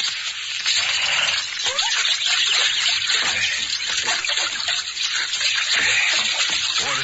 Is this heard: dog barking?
no